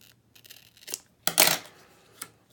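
Scissors cut through a chalk transfer stencil in a few close snips, with one longer crisp cut in the middle and a final short snip, in a quiet room.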